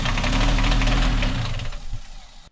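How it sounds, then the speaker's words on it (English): A sailboat's inboard engine with an unexplained fault knocks and rumbles at a steady idle, loud and close, then dies away abruptly at the end. "We also suffer from some strange engine issues"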